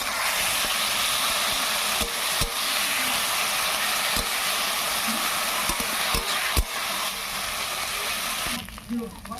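Chopped ash gourd leaf fritters dropped into hot oil in a kadai, a loud continuous sizzle and hiss with occasional sharp crackles, fading near the end.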